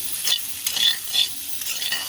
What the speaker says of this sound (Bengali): একই তেলে আমি আলুগুলাকে আঁকিয়ে নেব